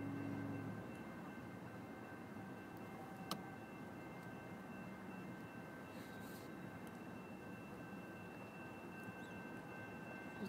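A slow mixed freight train led by a GEVO and two Warbonnet locomotives rolls past with a steady, continuous rumble and hiss, fairly distant and even throughout, with no voices.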